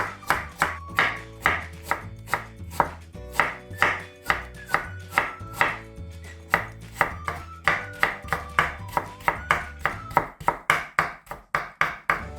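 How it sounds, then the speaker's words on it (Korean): A knife julienning Korean radish into thin strips on a cutting board for pepper kimchi, with a steady rapid run of crisp, close chops in an even rhythm and no talking. "무도 채치겠습니다. 이것도 이렇게 잘게 채쳐주시면 돼요."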